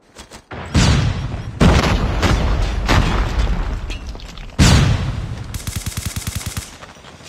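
A flashbang grenade goes off in a Call of Duty Mobile match amid dense gunfire: loud bursts of rapid shots and sharp blasts fill the scene, with a bright ringing rattle near the end.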